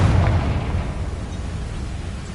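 A Confringo fire spell explodes in Hogwarts Legacy, a single deep booming blast that rumbles loudly at first and then fades into a low, lingering roar.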